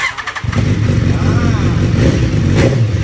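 A BMW HP4 motorcycle with a hand-operated gear shift runs loudly up close after being shifted from first gear into neutral, a rough steady engine note with a brief clatter at the start and someone talking over it.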